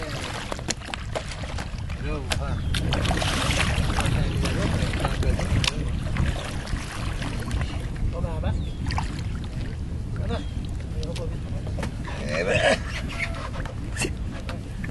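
A boat moves across open lake water on Lac Bolduc with steady wash and rumble, wind buffeting the microphone, and people chatting now and then over the noise.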